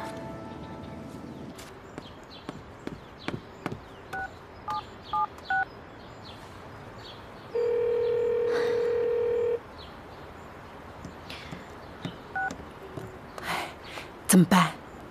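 A telephone keypad dials a short run of separate tones, followed by a steady dial tone lasting about two seconds, set in a tense drama scene with faint background noise.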